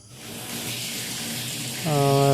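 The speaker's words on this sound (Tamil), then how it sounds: "மோட்டர் ஃபிக்ஸ் பண்ணி தண்ணி திறந்து விட்டாச்சு தொட்டியில் ரொம்ப தண்ணி கம்மியாக இருக்கிறதுனால ஸ்லோவாக வருது" Water flows slowly into a nearly empty household tank after the pump motor is switched on, a steady close-up rushing hiss joined near the end by a rising motor hum.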